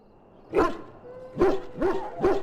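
Dog barking in the fantasy role-playing game Dragon Age Origins: four sharp, loud barks, the first alone and three more in quick succession about a second later, with a faint background hum between them.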